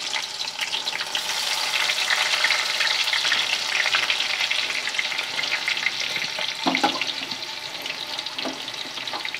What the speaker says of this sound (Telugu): ఇప్పుడు నూనె హీట్ ఎక్కింది, ఉల్లిపాయలు వేసుకుంటున్నాను